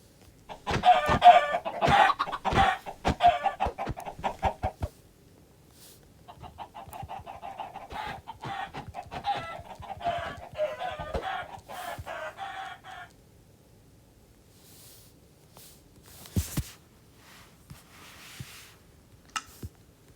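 Minecraft chickens cluck in quick bursts and short runs, loud and close, with pauses between groups of calls and a few isolated clucks near the end, no voices.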